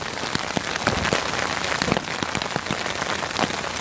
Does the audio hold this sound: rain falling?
yes